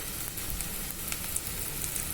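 Onions, green chillies and curry leaves fry in oil for an egg and okra curry, a soft, steady sizzle with faint crackles, quiet and unbroken throughout.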